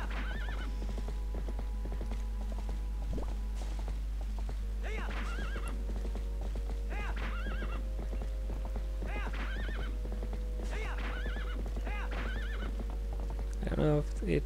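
Horse in the video game Twilight Princess whinnies repeatedly over a steady clip-clop of hooves, with game music and faint talk underneath throughout.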